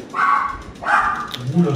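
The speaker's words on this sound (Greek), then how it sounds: "Ένα σκυλί που καυγίζει" Two short barks from a dog close by, a brief pause between them, followed by a lower whimpering sound.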